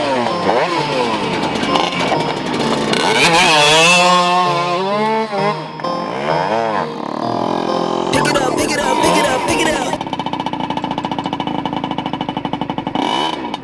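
A shifter kart engine revs hard and close, rising and falling in sharp, buzzy sweeps, then settles into a rough, pulsing high idle near the end.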